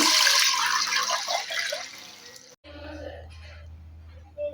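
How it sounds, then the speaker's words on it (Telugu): Water gushes loudly into a cooking pot for a couple of seconds, then stops, leaving a low hum and faint clatter. "ఒక గిన్నె పెట్టుకుని దాంట్లో నీళ్లు పోసుకోవాలి"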